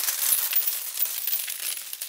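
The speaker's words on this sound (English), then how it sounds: "By adding the coins falling sound" A bright shower of coins clinks and jingles continuously, with many small metallic tinkles scattering over a couple of seconds.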